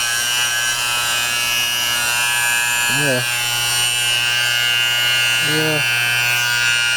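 Harbor Freight Bauer orbital palm sander running unloaded with no wood, a steady close electric buzz that holds unchanged throughout, with a short spoken word and brief voice bursts over it.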